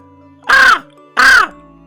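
A crow caws twice, two loud harsh calls about half a second apart, close by and otherwise alone.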